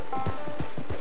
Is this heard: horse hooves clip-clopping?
yes